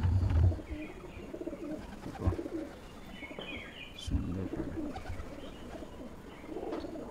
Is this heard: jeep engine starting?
no